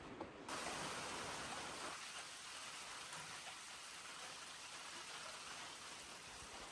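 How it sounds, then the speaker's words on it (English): Steady rain drumming on a tin roof of an off-grid mountain cabin at night, a dense continuous hiss that holds evenly throughout with no voices. "There is nothing better than sound of rain on a tin roof."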